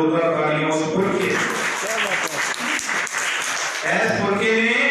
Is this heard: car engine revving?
no